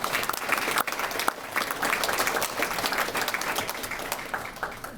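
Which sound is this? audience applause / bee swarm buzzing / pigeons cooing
audience applause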